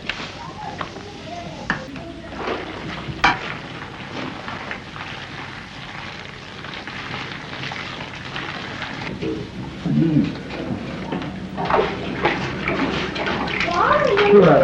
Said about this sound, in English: The raw mulberry silk is boiled with bleaching powder to remove its natural yellow gum surface and make